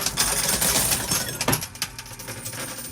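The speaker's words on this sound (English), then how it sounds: "Quarter just dropped into the bonus hole." Dense metallic clinking and jangling of coins spilling and clattering, with a busy rattling burst that tapers into scattered clinks.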